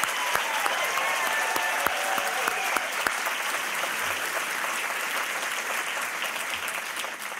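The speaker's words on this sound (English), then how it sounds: "A big round of applause for Anne Leclerc, our CEO." Sustained applause from a luncheon audience at a convention and visitors bureau event, steady dense clapping throughout with a few sharp louder claps near the start.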